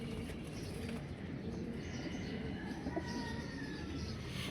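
Pigeons coo faintly on a rooftop in the early morning, soft low murmuring calls under a broad hum of background noise, with a few brief chirps and no voices.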